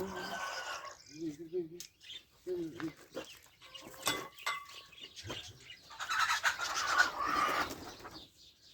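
Several hens cluck and squawk nearby in uneven bursts, with a voice talking and humming in between and some rustling.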